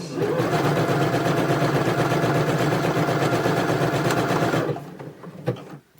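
A sewing machine stitches a seam on a pair of lingerie boxer shorts, running in a loud, fast, steady rattle for nearly five seconds before stopping, followed by a few faint handling clicks.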